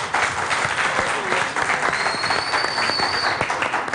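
A studio audience at a Turkish television entertainment show bursts into full, dense applause that stays steady and loud for about four seconds, with no speech over it.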